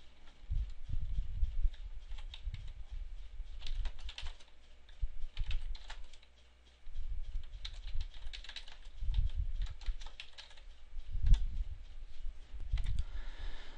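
Close computer keyboard typing in quick bursts of clicking keystrokes, with short pauses between runs and no voices.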